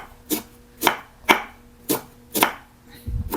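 An onion is being chopped with a knife on a board in a home kitchen: five sharp, separate knocks at a steady, unhurried pace, close and clear, with no other sound between them.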